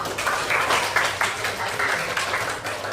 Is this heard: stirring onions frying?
no